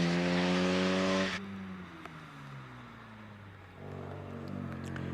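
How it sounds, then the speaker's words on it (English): A much-modified, very rapid MGB race car with its original 1840cc engine drives hard at a hillclimb, a loud engine note that drops away abruptly and then holds at a quieter, steady level as it gets farther off. "here's Charles Bolton in this much modified and very rapid MGB that he has competed with for a long, long time"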